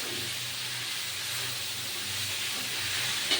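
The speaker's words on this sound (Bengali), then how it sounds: "একটু করে কপি দেবো আর নাড়তে থাকবো।" Shredded cabbage cooking in a pan for a vegetarian cabbage ghonto makes a constant hissing sizzle, near and even, with a faint stirring touch near the end and no talk.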